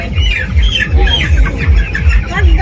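Several chickens cluck and squawk close by during vaccination, in a steady, busy chorus, with no talking.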